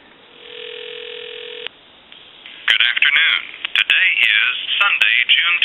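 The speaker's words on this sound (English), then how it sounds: "So we'll go ahead and give you some dial tone" A steady dial tone from a Kellogg wooden wall telephone hums for a moment, then rapid touch-tone dialing beeps and line chirps follow.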